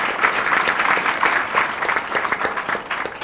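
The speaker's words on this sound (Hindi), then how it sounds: "तो ताली में जोर से बजाओ।" An audience applauds loudly and steadily at an indoor gathering, a dense wash of many hands clapping at once with no talk over it.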